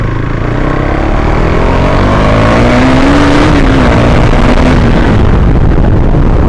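A KTM Duke 390 BS4 motorcycle accelerating hard, engine pitch climbing steadily through the revs under a loud, continuous roar with wind rush, close and unbroken.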